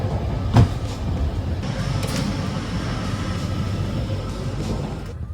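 A passenger train runs steadily on the rails, a continuous loud low rumble of wheels and carriage noise heard from inside, with a brief knock near the start and a faint high tone riding over it.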